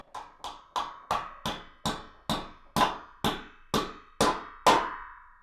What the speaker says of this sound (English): These fit to there, and then you hammer them in.